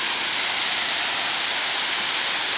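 A waterfall on a hidden trail at Craig Park in Brazil, Indiana, gives a steady, dense rush of falling water, close and continuous with no voices over it.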